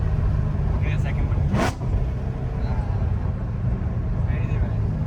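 Idling exhaust of a Chevrolet Corvette C7 Z06 with the Z07 package and Kooks headers, a steady low rumble under a brief whooshing burst, with people talking nearby.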